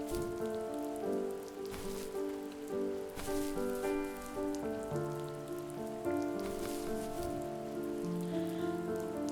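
In the video game The First Tree, rain patters steadily and evenly for several seconds beneath gentle tonal music, with no voices.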